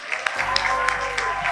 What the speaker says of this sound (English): Let's have a round of applause for Roy and the team.